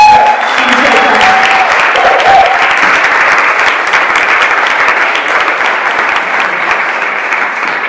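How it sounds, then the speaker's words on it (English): An audience at an evening talk gives an enthusiastic round of applause, loud and sustained dense clapping that fills the whole stretch with little change, with a few faint voices briefly audible near the start. "can we please give a enthusiastic round of applause?"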